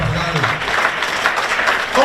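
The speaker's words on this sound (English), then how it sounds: "Stop clapping for" An outdoor crowd at a Kenema groundbreaking ceremony claps steadily for about two seconds, a dense broadband patter with a voice speaking over it near the end.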